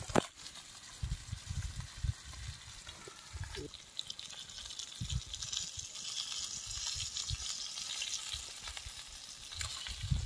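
Fish frying in hot oil, a continuous crackling sizzle close up with occasional low thumps and stirring bumps, no voices heard.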